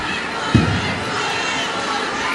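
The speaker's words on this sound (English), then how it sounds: "the crowd is going wild here at Thunder Studios in the closing seconds of this fight" A crowd at a kickboxing fight at Thunder Studios roars steadily in the closing seconds, a loud, sustained cheer with a sharp thump near the start and no clear talk on top.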